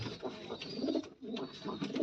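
A pigeon coos softly in repeated low rolling phrases, close and steady, with a brief pause midway.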